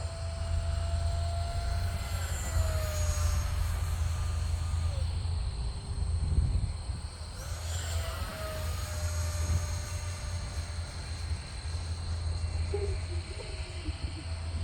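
An FMS F-16 Thunderbird RC jet with a 4S battery makes a downwind pass, its ducted-fan whine rising and sliding in pitch as it sweeps by at a distance over steady outdoor background noise.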